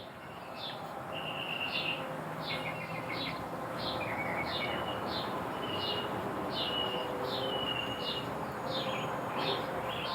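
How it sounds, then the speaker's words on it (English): Small birds chirp outdoors in a steady, repeating series of short, bright calls spread across the whole stretch, set against a constant broadband background hiss. "you may notice the birds chirping in the background"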